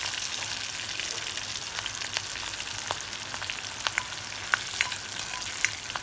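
Ginger pieces, green chillies and cumin seeds fry in hot oil in a pan for katte pongali, a dense, even sizzle dotted with small crackles and pops, close up with no talking.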